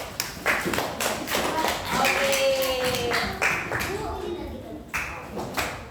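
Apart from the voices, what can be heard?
applause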